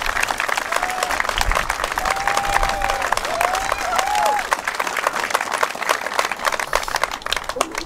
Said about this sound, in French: je voudrais qu'on les applaudisse tous ensemble